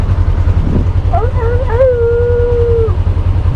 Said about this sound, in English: when they are howling, each dog has its own key